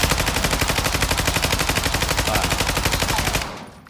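Rapid automatic gunfire in Call of Duty: Warzone, a steady loud burst of evenly spaced shots lasting several seconds before cutting off abruptly.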